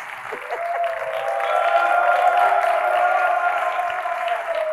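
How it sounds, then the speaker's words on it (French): Studio audience applauding on a French TV show, a steady wash of clapping that swells and holds for several seconds, with a bright sustained tone ringing underneath. "Public, on va les applaudir."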